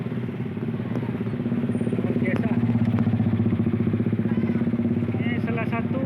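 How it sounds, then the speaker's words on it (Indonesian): Many motorcycles rumble and clatter at a crowded beach during Lebaran, a dense, continuous engine drone under nearby voices. "Motor ramai sekali."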